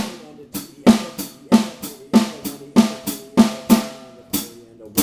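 A drum figure played with the right hand only, as sharp evenly spaced hits with a steady pulse, close and punchy, a few strokes slightly accented, with no voices.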